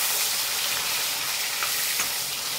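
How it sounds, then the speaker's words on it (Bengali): Pieces of katla fish fry in hot mustard oil with a dense, steady sizzle that is loud, close and continuous, broken only by faint crackles. "মাছগুলো ভালো করে ভেজে নেব"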